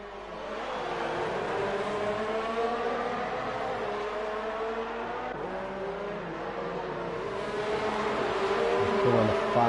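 Several Formula 1 race cars battle closely on the Hungary circuit in a racing game, their high-pitched engines whining and shifting steadily throughout, loud and continuous with rising revs toward the end.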